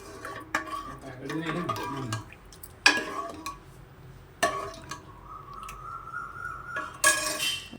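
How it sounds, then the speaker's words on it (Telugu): Cooked moong dal gets mashed in a metal pot with a spoon, giving scattered scraping, knocks and clinks in irregular bursts, fairly close, with a long metallic scrape near the end. "ఇలా అయితే మెదుపుకోవాలి పప్పు"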